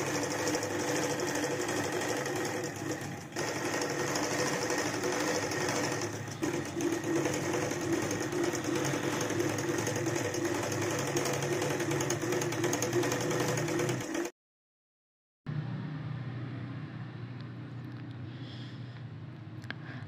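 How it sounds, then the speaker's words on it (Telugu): A sewing machine hums steadily while stitching a double-folded hem on a baby's lehenga, running continuously for long stretches and breaking off briefly before starting again. "ఆ 1 ఇంచ్ని ఇలా డబుల్ ఫోల్డ్ పెట్టుకొని పైకి స్టిచ్చింగ్ అనేది చేసుకోవాలి స్ట్రైట్"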